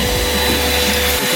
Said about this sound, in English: Can you vacuum it?